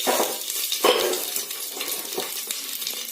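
Bay leaves sizzle in hot ghee for a vegetarian biriyani, a steady close crackling hiss with a few sharper spits and stirring scrapes, with no voices over it.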